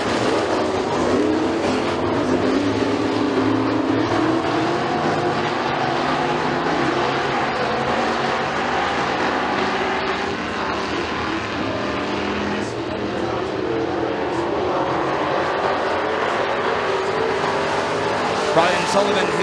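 Race cars on the McKean County Raceway dirt track during heat races, a continuous loud engine roar droning throughout with an announcer talking over it.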